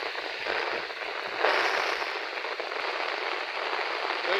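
Heavy rain pours steadily over waterlogged farm fields in Keshod, Junagadh, with strong wind. It makes a dense, continuous roar that swells louder partway through and carries no voices.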